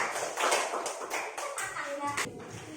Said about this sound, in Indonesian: Oke, tepuk tangan untuk kelompok kecepatan.